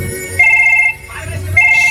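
Telephone ringback tone repeating after a call is redialed, steady electronic rings in two clear bursts, close and fairly loud, with faint background murmur between them.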